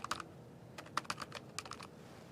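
Quick bursts of keystrokes on a computer keyboard during Windows Server administration work, several short clusters of crisp clicks separated by pauses, close and fairly quiet.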